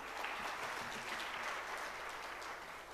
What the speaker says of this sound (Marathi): तर अशा सुंदर असा उपक्रम राबवलेला मेटारोल कंपनीसाठी एकदा जोरदार टाळ्या बनतीलच मंडळी